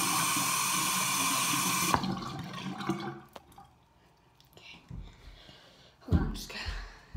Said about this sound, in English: Wash it off with water.